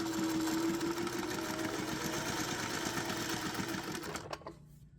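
Home sewing machine stitching fabric for a needlebook, starting from the needle-down position with a few stitches and a back stitch; a steady, close, rhythmic motor whir and needle patter that runs evenly, then cuts off near the end.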